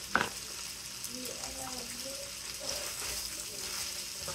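Green onions go into a pan of frying Cantonese rice, giving a close, steady sizzle with soft stirring scrapes underneath, while a voice speaks faintly.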